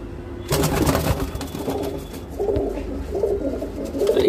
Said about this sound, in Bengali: এগুলো নর পায়রা নর পায়রা প্রত্যেকটাই নর পায়রা দেখাচ্ছি